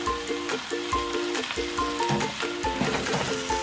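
Okonomiyaki batter frying in a pan, a continuous close crackling sizzle with rhythmic scraping and tapping of a utensil shaping it.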